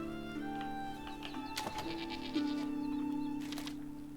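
Goats bleat in the farm area of the Enshrouded video game, a few drawn-out calls rising over a steady tonal background hum, moderately loud and close with no talking.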